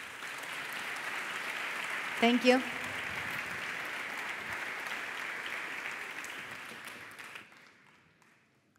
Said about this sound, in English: Your applause, please.